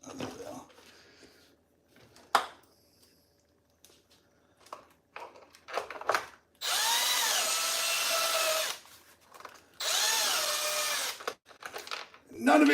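A power drill drives screws into a Traxxas XRT RC truck in two long sustained whirring bursts, with shorter tool buzzes and handling clatter around them and a voice speaking between the runs.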